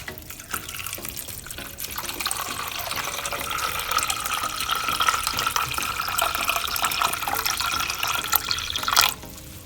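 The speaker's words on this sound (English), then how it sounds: "we are going to put in water for boiling them" Tap water runs steadily into a pot of cleaned mushrooms about to be boiled for a creamy vegan peanut butter and mushroom stew, a continuous close splashing fill lasting several seconds before cutting off.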